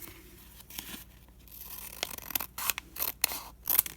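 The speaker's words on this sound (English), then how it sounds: "then we're just going to cut that bottom off" Scissors snipping through a flattened paper bag to remove its bottom, a run of close, crisp cuts with papery crinkling, growing louder and more clustered toward the end.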